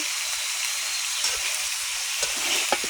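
Mutton fries in hot oil with a steady, close, dense sizzle throughout, and a few faint stirring clicks and pops sound beneath it, with no voices.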